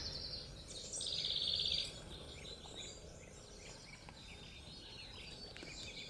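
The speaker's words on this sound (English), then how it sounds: "The birds are all out singing." Wrens sing in a garden as rain approaches, with a brief bright chirping phrase standing out over faint distant calls and a steady hiss of outdoor ambience, quiet and far off, with no talk.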